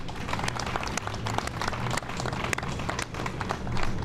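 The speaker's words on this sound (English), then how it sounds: "a round of applause for Blue Tin Productions" An audience applauding steadily at a grant finalists event, dense clapping that holds for several seconds and swells slightly near the end.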